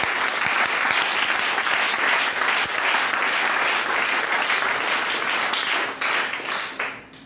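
A church congregation applauds steadily for several seconds, a dense, loud wash of many hands clapping that thins and fades out toward the end.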